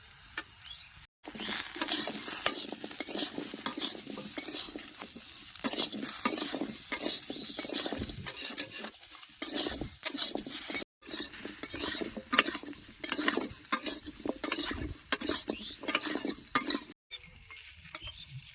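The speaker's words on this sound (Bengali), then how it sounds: "সমস্ত মশলাপাতিগুলো দিয়া আমরা আবার সুন্দর করে কষাই নিছি" Spices for a mango pickle made with sugarcane jaggery, including salt, turmeric and chilli powder, being stirred and sautéed in a pan, with a steady close sizzle and repeated scraping strokes throughout, without talk.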